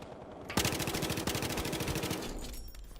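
FAMAS assault rifle fired in Battlefield Hardline, a rapid sustained burst of automatic shots in even rhythm lasting about two seconds, starting abruptly with a sharp crack and tailing off into echo.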